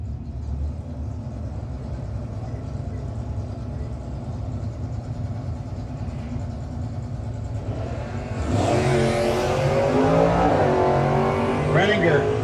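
Drag-racing hot rods, including an Oldsmobile, at a no-box 660 shootout start line: a steady engine rumble under a commentator's voice, then a loud rising launch roar with revving sweeps near the end.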